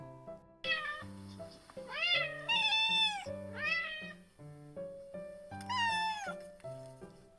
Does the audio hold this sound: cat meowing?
yes